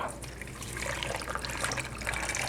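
Water poured from a tap into a cooking pot holding a frozen chicken leg quarter with salt and pepper, a close, continuous splashing trickle with a bright, bubbling texture throughout.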